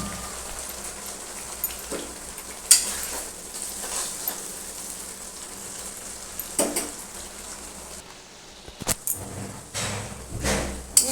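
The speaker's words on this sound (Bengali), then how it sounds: "মশলাটাকে এখন ভালো করে আমি কষিয়ে নেব" Spice masala with fried onions and green chilies is sautéed in a pan, a dense, continuous sizzle and crackle with scattered scraping stirs and a few sharper clacks of a spoon against the vessel.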